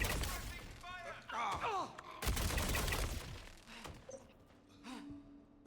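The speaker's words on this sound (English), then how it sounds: "I don't know if they changed the sound of that P8, but it sounds good. It's got a really nice thump to it now" A P8 gun fires in Star Citizen with a thumping report, several sharp shots in quick bursts mixed with other game effects and voices talking.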